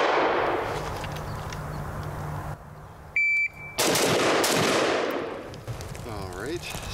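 Rapid shots from a Midwest Industries MI-10F rifle crack out in quick bursts at close range, with a few short electronic beeps in between.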